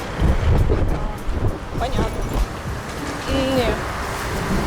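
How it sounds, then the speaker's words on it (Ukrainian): Strong, unpleasant wind blows outdoors and buffets the microphone with constant low rumbling gusts, while people talk nearby. "вітер сьогодні такий неприятний"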